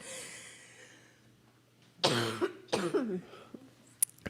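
A pair of harsh, close coughs followed by a short throat-clear and a sharp breathy catch, against a quiet hum.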